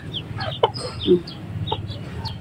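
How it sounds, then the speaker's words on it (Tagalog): Chicks and hens clucking close by in a backyard coop with rice hull bedding, giving several short, scattered calls over a low steady background hum. "Yung mga sisiw ko."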